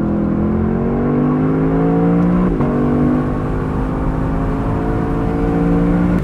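A 2022 Lexus LC 500 convertible is driven in manual mode, and its engine drones loudly from inside the car. The pitch climbs steadily, briefly dips at a gear change and then rises again, with no speech.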